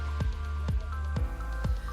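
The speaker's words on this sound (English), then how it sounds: "The specially formulated aerated Moladi mortar mix, consisting of cement, sand, water, and the patented Moladi Chem, was then poured into the wall cavities and left to set." Aerated cement mortar made of cement, sand and water is poured into wall mold cavities, giving regular wet squelching plops about twice a second over a steady low hum.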